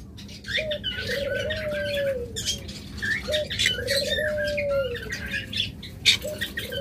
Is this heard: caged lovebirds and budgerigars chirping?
yes